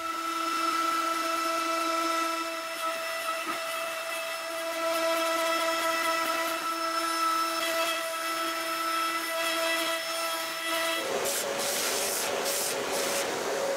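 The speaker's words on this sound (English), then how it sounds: "Then it's back down to the metal cutting CNC, where I'm cutting out the small gear." A metal-cutting CNC machine cuts out a small gear, giving a steady loud whine with sustained tones, then a harsher, rougher cutting noise near the end; no talking.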